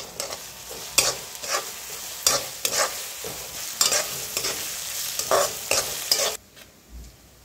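Onions and green chillies frying with stirring in a pan for Maharashtrian kande pohe: steady close sizzle broken by repeated scraping stir strokes about every second, ending abruptly into quiet.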